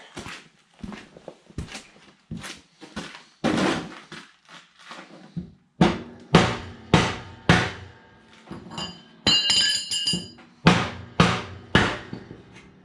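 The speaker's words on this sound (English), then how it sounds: "I can take my rubber mallet" A rubber mallet strikes the deck spindle of a John Deere 455 mower again and again, landing roughly a dozen loud, dull blows in an uneven rhythm with short pauses between them.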